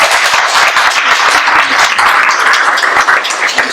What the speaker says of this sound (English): I want to make sure we give another round of applause to my colleague, Melissa Lopez Franzen, please.